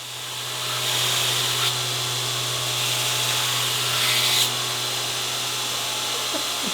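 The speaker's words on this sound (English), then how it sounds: "Maverick took one pass at it and showed me really how it's done" A knife blade shaped on a grinding wheel: a steady motor hum under a harsh, rising abrasive hiss that comes in two or three passes, each building and then cutting off.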